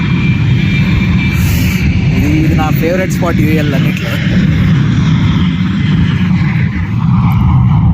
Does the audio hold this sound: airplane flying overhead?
yes